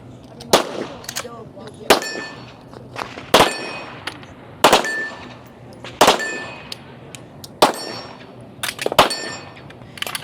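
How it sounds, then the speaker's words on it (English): Pistol rounds striking steel targets at a women's elite fitness competition stage, about seven sharp, loud metallic pings at irregular intervals, each leaving a short bright ring. "We'll see who can continue to shoot clean on the steel."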